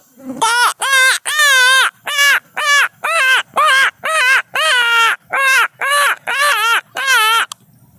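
A voice imitates a crow, giving a rapid series of about a dozen loud, nasal caws in quick succession, close and clear.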